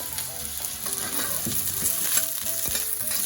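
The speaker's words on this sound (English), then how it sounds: "put in the ginger, and then all the garlic." Ginger and garlic hit hot oil over high heat in a wok or pan for Taiwanese three cup chicken. A dense, steady sizzle fills the sound with faint stirring scrapes, close up and without speech.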